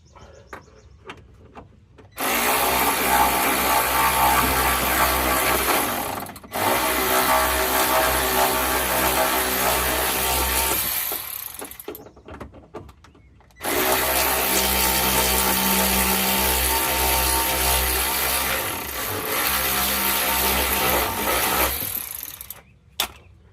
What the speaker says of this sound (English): This electric air ratchet. It's nothing expensive, just a cheapy OEM Tools brand one.